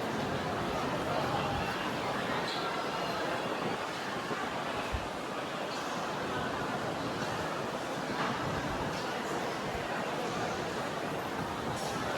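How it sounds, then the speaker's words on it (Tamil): Outdoors at Gardens by the Bay in Singapore, steady wind rushes in a broad, even hiss that buffets the microphone throughout, with no break or gust pattern standing out. "காற்று செம்மையாக வருது, சூப்பராக இருக்குது."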